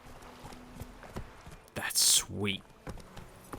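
Horse hooves clip-clop in The Witcher 3: Wild Hunt as a rider mounts from behind in one jump, a few soft steps under a voice, with a brief bright swish and a bending tone passing over them.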